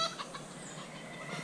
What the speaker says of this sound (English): you got the roosters over there